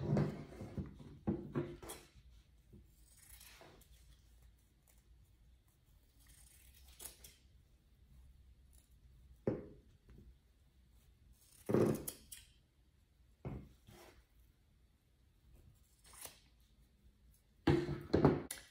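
Scissors snip through fabric scraps in a quiet room while tutu socks are being made, with several separate crisp cutting sounds spread out between long quiet gaps.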